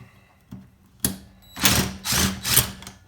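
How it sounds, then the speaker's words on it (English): A 3/8-inch drive socket wrench with a 5/8 socket works on a lawnmower engine, giving a few close, loud bursts of clicking ratchet sound in quick succession with brief pauses between. "I had to jump up to a 3/8 drive on a 5/8 socket"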